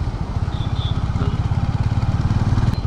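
A Hero Mavrick 440 motorcycle ridden in third gear at speed, its engine close and steady with a rapid, even thumping pulse throughout.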